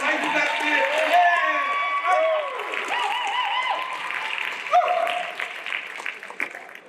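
Applause from caregivers at an incoming new-student meeting, a scattered wash of clapping mixed with voices and cheering, with a speaker talking over it as it tapers off.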